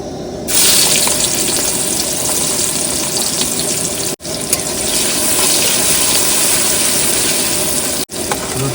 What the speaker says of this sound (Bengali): তেল গরম হয়ে গেছে পেঁয়াজ দিয়ে দেবো